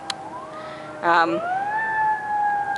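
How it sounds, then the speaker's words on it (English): A wailing fire truck siren rises and falls at moderate distance as the truck crosses a bridge, briefly joined by a short horn blast, with traffic noise beneath. "Sorry about the siren. There seems to be something crossing the bridge."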